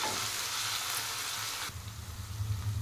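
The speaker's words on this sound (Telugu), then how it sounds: "ఇది మంచిగా పండుగ అయిందాక పచ్చివాసన పోయిందాక ఫ్రై చేసుకోవాలండి" Ginger-garlic paste fries in a pan for chicken curry, a loud, continuous close sizzle with a brief stirring shift partway through.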